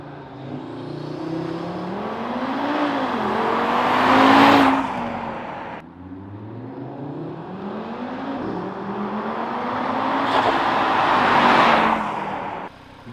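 An Audi RSQ3 Sportback fitted with a modified air intake and front splitter revs hard under launch control, its engine note rising and surging twice, loud and close, with no talking.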